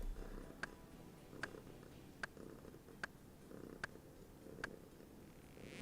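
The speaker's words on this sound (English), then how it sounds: "you can hear Bernie purring on the mic" A cat purrs right against the microphone while lying on a person's chest: a steady, close, low rumble with soft sharp clicks at an even rhythm, about every second.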